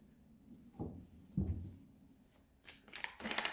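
Tarot cards handled and shuffled close by, a few soft riffling bursts near the start followed by quicker papery flutters toward the end, with no talk over them.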